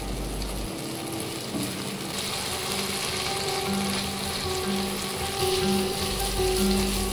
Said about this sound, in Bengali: এবার ততক্ষণ নাড়তে হবে যতক্ষণ না আদা রসুনের কাঁচা